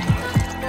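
Water splashes into a bowl of raw peanuts in two short, close, loud gushes about a quarter second apart, with no talking.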